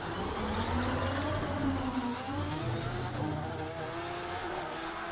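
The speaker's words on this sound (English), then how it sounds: "And that is the sound of the Gould GR55 revving up." A Gould GR55 race car revs hard at a hillclimb, its engine a loud, steady, dense roar that holds for several seconds with slight swells, heard on its own without voices.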